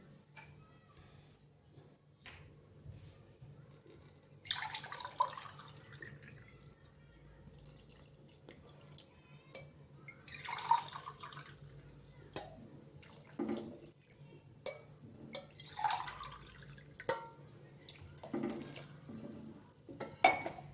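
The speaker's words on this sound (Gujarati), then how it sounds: "હવે આપણે આમાં પાણી એડ કરી દઈશું" Water is poured into a pot of vegetable khichdi, about three glasses onto two cups of rice and lentils, in several splashing bursts with occasional clinks of metal utensils and a faint background hum.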